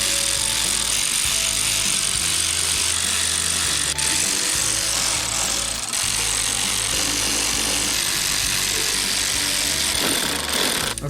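Power tool running down engine bolts during a 2013 Chevrolet Equinox engine swap, a loud continuous mechanical whirring and rattling that holds steady throughout with no talk.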